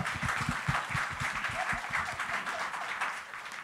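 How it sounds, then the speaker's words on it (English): An audience claps for both teams at a collaboration talk, a steady, dense wash of applause that keeps going for several seconds at a moderate level. "big round of applause to both teams"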